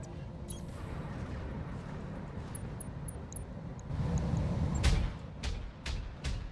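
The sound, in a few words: autocannon fire in BattleTech video game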